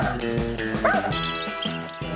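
Dogs bark and yip in a home, several sharp, high overlapping barks in quick succession with a whimpering cry mixed in, close and loud throughout.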